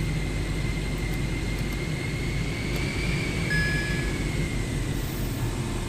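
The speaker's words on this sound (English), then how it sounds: "Thrust levers cut off." Airliner engines in MSFS 2024 winding down after thrust levers are cut, a steady broad roar with a slowly falling whine, continuous and fairly close, no talk.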